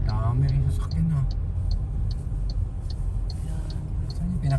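Steady motor traffic rumbles past near a school where students gather, with engines and tyre noise forming a continuous close background while someone talks over it.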